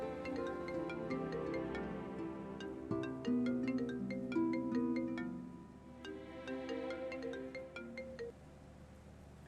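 A melodic phone ringtone plays steadily, a bright chiming tune with layered tones that continues for several seconds without talk.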